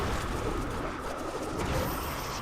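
Birds released by an enemy in the video game Diablo 3 give soft cooing, pigeon-like calls over a dense wash of game noise, brief and low in the mix.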